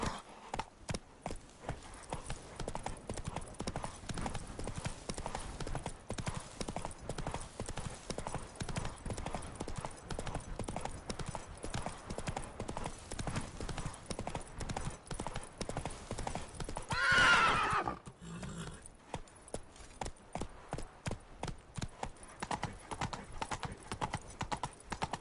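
A horse in The Witcher 3 gallops with a quick, rhythmic clip-clop of hooves that runs throughout, and a brief loud whinny breaks in partway through.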